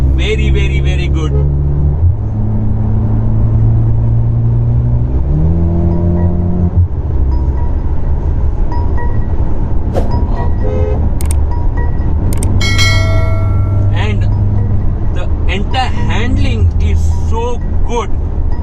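A 2021 Mercedes GLA 35 AMG accelerates, its engine note climbing through the gears in rising steps, loud and close inside the cabin with road noise, under continuous talk.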